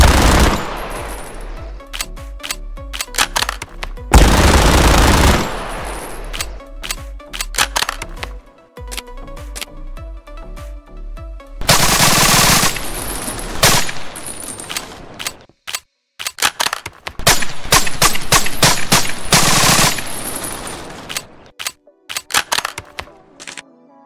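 Kriss Vector .45 submachine gun fired in the Roblox game Stabx, with loud rapid automatic bursts and quick single shots in several strings separated by short gaps, close and dry.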